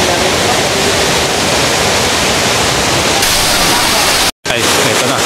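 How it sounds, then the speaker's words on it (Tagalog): Aliw Falls, a waterfall in Taytay, Philippines, pours as a loud, dense, continuous roar of rushing water, close by and filling the scene, broken by a brief dropout near the end. "Ito na. Ang Aliw Falls."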